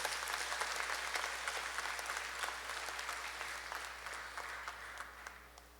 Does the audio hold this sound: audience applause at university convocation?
yes